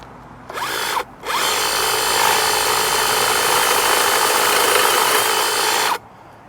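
Honda HHH36BXB battery hedge trimmer cutting through a thick, spiky hedge, a loud, close, steady buzzing drone that stops briefly near the start and then runs continuously for several seconds before cutting off.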